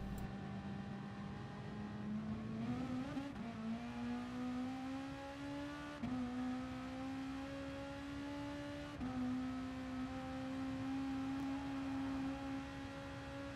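A Gran Turismo Sport race car on the Nürburgring 24h circuit accelerates hard, its engine whine climbing steadily through several upshifts, loud, close and continuous with no talk.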